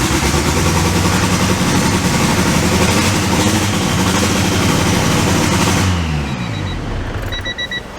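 A Honda Prelude engine started up again on a first start attempt, running at a loud, steady, rough idle close by, then dropping off abruptly near the end into quieter ticking.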